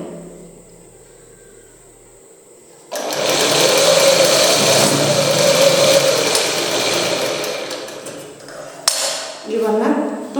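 A sewing machine stitches a hem with thread matched to the fabric colour, starting abruptly after a quiet spell and running at a steady, close, loud buzz for several seconds before stopping with a few clicks.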